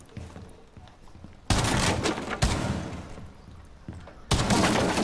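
Shotgun blasts in a video game, three loud close shots spaced over a few seconds, each a sharp burst with a short decaying tail over quieter game noise.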